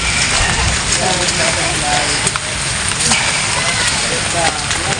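Steady rain patters and hisses on a surface, continuous and fairly loud, with a person talking over it.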